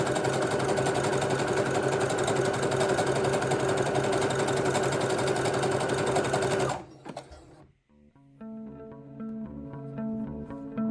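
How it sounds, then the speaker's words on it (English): A sewing machine runs a narrow zigzag stitch along the fraying edge of a dress hem, a loud, steady, close mechanical whir that stops abruptly partway through, followed by a quieter, tonal background sound. "So I'm just going to do a narrow zigzag along the edge, just to stop it from fraying."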